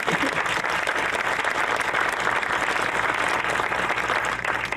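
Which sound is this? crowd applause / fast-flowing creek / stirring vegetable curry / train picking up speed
crowd applause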